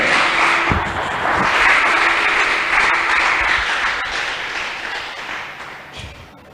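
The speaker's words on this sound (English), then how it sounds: "Give Jesus a clap offering." A church congregation at a prophetic preaching service bursts into loud, sustained applause. A thick wash of many clapping hands fills the room, with a few faint voices underneath, and it slowly tapers off toward the end.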